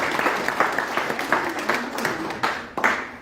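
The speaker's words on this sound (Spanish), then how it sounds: "Quisiera que recibamos con un fuerte aplauso a nuestro invitado de esta tarde" An audience at a conference on Tiwanaku ceramics applauds to welcome the afternoon's guest speaker, a sustained wash of steady hand clapping from a sizable room, moderately loud and uninterrupted by speech.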